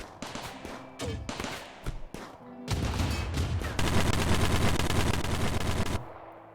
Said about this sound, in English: Distant gunfire.